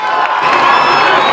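Loud crowd cheering, whooping and shouting with applause for faculty at a 2019 graduation ceremony on a field, a dense continuous roar.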